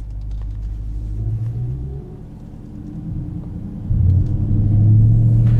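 A stock, unmodified car engine rumbles low and steady while driving, swelling into a louder, deeper revving surge toward the end, close and without talk.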